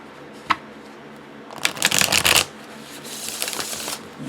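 Witch Bone Tarot cards being riffle shuffled up close: a sharp tap, then a dense rapid fluttering burst of card edges, followed by a softer, longer riffle, with no talking.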